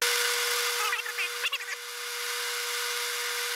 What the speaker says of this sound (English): I've got a lathe here, just chuck this up